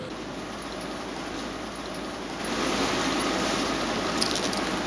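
Steady rain pours down on a sailing boat approaching Tobago in the Caribbean, forming a dense, continuous hiss that grows slightly louder halfway through, with no talking.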